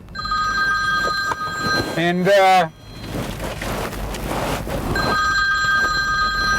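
A telephone rings in repeated tones at the start and again near the end, with a brief spoken word and a short musical swoop in between.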